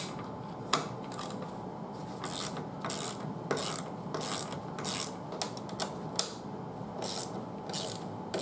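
A ratchet wrench loosens nuts on a Toro Timecutter mower deck, giving repeated bursts of fast, raspy clicking with short pauses and occasional sharp metallic knocks, close and moderately loud.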